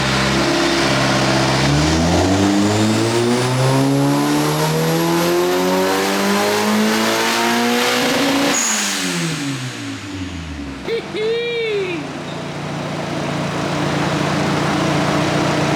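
A turbocharged Mazda Miata engine on a dyno revs hard, climbing through the gears with a turbo whistle, then drops off sharply with a brief chirp before idling loudly.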